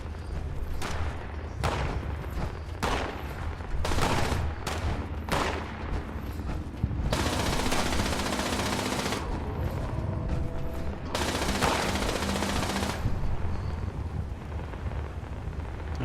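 Gunfire erupts during a fight in the video game Fallout 76, with rapid bursts and sustained automatic volleys, some followed by longer noisy blasts, heard at a moderate distance with no talking.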